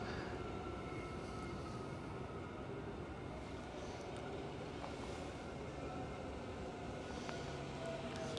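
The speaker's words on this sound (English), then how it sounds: "So the train's just pulling into the station here" Steady low rumble of a train rolling slowly, continuous and moderately distant, with faint metallic squeals over the drone.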